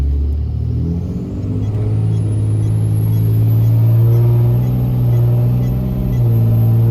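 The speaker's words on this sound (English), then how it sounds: "Really bad hang shift. Really bad flare there in between the 2 to 3." An old car with a burnt clutch pack accelerating at about 40% throttle, the engine a loud, steady low drone that climbs in pitch, with a hanging, flaring shift between second and third gear.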